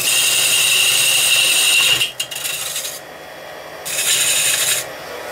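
Woodturning tool cutting bone-dry, hard beech on a lathe, a loud steady hiss of the cut that drops away, then resumes briefly in a second pass, close and with no talking.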